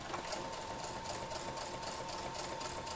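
A sewing machine runs at a steady, even hum while stitching a zipper onto a fabric bag, a continuous close mechanical whir with no talking.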